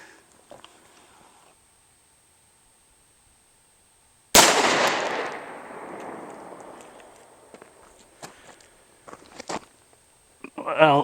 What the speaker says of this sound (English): We're shooting from 15 feet,